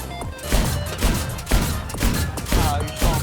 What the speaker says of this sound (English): I'm good with an AA gun